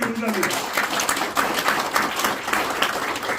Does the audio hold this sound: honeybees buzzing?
no